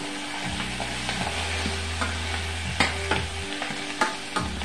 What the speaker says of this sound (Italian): Andrò a girare il tutto.